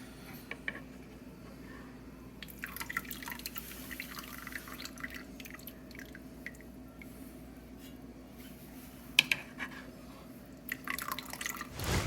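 Homemade ricotta curds are scooped with a small sieve into cheesecloth, giving faint wet drips and soft squelches over a low steady hum, with a few louder splashes near the end.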